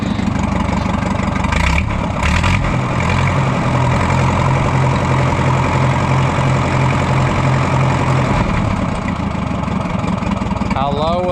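An Oliver 60 tractor engine idles loud and steady throughout, with a constant rumble and a person speaking over it.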